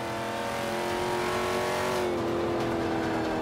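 Supercharged V8 truck engine with race exhaust in the Forza 5 video game, a loud continuous rev that holds a steady drone and shifts pitch slightly partway through, heard alone.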